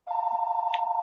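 A telephone rings in one long steady electronic tone that fills the second, close and clear, with no talk over it.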